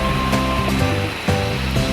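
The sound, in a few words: Tanawan Falls waterfall flowing water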